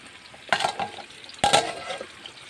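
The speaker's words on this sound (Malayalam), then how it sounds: "ഇപ്പം നമ്മൾ മീനൊക്കെ പൊരിക്കാണ് ഗ്യാസ്." Fish frying in a pan on a gas stove, with two bursts of sizzling and spattering about a second apart that fade back to a low crackle.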